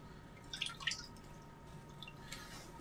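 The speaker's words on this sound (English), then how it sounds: "We just dip them in some water" Water drips from plaster bandages dipped for a fossil field jacket in a palaeontology prep lab, a few faint, scattered drops and trickles in a quiet room with no talk.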